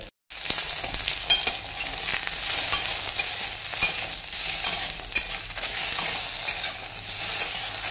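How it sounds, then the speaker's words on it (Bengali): Food frying in oil in a kadai, being stirred, gives a steady close sizzle with scraping clatter throughout, with no talk. "এরকম করে কড়াইয়ে একটু নাড়াচাড়া করে নিতে হবে।"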